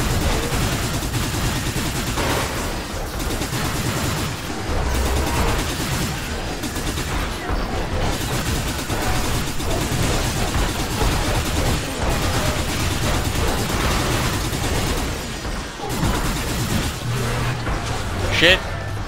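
Gunfire from the first-person shooter Hard Reset, with steady heavy shooting and explosions running continuously for the whole stretch under a dense game soundtrack, as a player talks over it.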